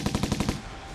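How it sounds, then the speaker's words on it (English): A short, rapid burst of gunfire, about a half-second of fast cracking shots followed by a fading echo. "suddenly there was a burst of gunfire, and everybody dropped to the ground"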